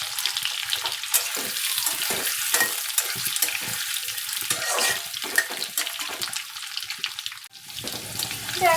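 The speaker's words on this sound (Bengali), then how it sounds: "দেখো আলুগুলো একটু লাল করে ভাজা করে নেব।" Cut potato pieces frying over medium flame until reddened, a steady loud hiss and crackle of oil with occasional stirring scrapes, continuous throughout with no talking.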